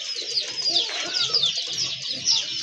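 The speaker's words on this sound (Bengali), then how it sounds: "এটা হচ্ছে দ্বিতীয় পেয়ার গোল্লা কবুতর।" Golla pigeons close by give soft, repeated coos and throaty murmurs over light background noise, with no talk.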